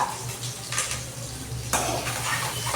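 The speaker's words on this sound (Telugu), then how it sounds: "వేగుతుంది బాగా" Chicken frying in a pan with ginger-garlic paste, a loud close sizzle with scraping and stirring clatter of a utensil against the pan, a sharp burst partway through, no talk.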